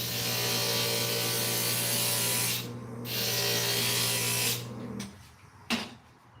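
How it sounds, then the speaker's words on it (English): A stained glass grinder runs with a steady whirring hum while a glass piece is pressed against the bit, giving a gritty grinding tone. It pauses briefly, resumes, then stops, leaving a faint clack near the end. "let me grind that just a hair bit more"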